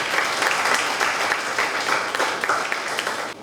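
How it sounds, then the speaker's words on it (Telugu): A congregation at an Easter sunrise church service applauds in thanks, a steady wash of many hands clapping at even loudness throughout, bright and full, with no voices over it. "అయ్యగారికి ఒకసారి మనందరం కూడా చప్పట్లు కొట్టి వారి కృతజ్ఞతలు తెలియజేద్దాం."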